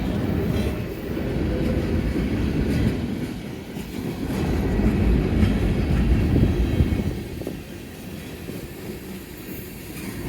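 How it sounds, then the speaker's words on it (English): A Conrail freight train rolls past on the Pennsgrove Secondary in Woodbury, New Jersey, with a continuous low rumble and rhythmic clatter of wheels, swelling in the middle and easing slightly toward the end. "So I caught this train earlier this morning moving some"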